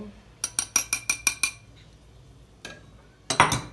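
A utensil stirs flour and sugar in a metal pot, producing a quick run of bright metallic clinks, a short lull, then a few louder scraping clanks near the end.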